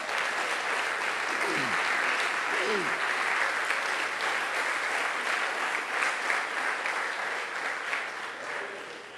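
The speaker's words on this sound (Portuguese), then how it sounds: "Pode aplaudir a Jesus." Congregation in a church applauds Jesus, a broad, sustained roar of many hands clapping that holds steady for about nine seconds before easing slightly, with brief vocal whoops near the start.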